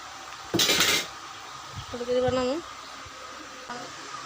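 A metal pot of cooked rice is taken off a stove: a sharp clatter of metal on metal, then scraping and a ringing squeal of the pot sliding, with a softer knock afterward.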